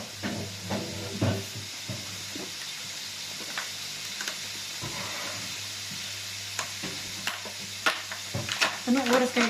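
Liver and bacon fry together in a pan for pancit, giving a steady close sizzle and hiss with occasional stirring scrapes and clatter, louder near the end.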